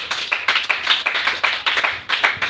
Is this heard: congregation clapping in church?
yes